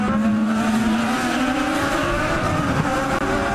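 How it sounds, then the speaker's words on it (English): An IndyCar race car from the 2011 Honda Grand Prix of St. Petersburg roars past on track, its engine note loud and close with a steady rising whine that shifts in pitch as it goes by. "it's a passing car of EJ Vizo"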